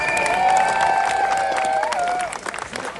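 A crowd at a street rally in Sydney cheers and applauds in a dense wash of clapping and shouts that fades after a couple of seconds, while a voice is heard above the noise.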